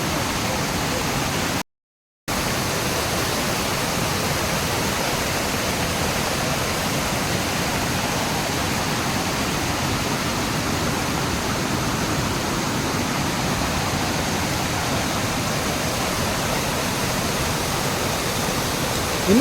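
A river in a flood-affected hill area rushes with a loud, unbroken roar of fast water that stays even throughout.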